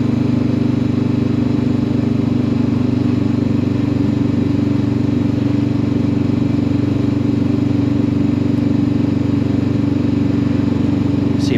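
A Macbor Montana XR5 motorcycle engine jerks under acceleration at low speed in first and second gear, giving a loud, steady mid-pitched running drone close to the microphone that holds throughout with no talking.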